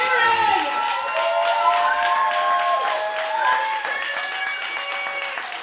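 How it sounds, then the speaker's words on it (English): A crowd gives a sustained round of applause, with cheering and whoops woven through the clapping, for Katie Barron at the Keep On Singing event, steady and full throughout. "I want us all to do a giant round of applause for Katie Barron!"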